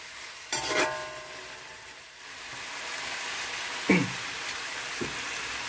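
Local chicken sizzling and frying in a pan as it is stirred, a steady hiss with a few distinct scraping clinks of the spoon against the pan, and no talking.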